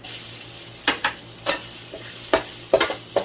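Garlic and shallots fry in a smoking-hot pan, a steady sizzle broken by several sharp bursts as the pieces are stirred and tossed, close and fairly loud with no talking.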